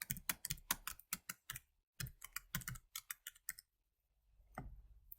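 Keys tapped on a computer keyboard while entering data, a quick run of close, crisp clicks in uneven bursts, a brief pause, then a softer key press near the end.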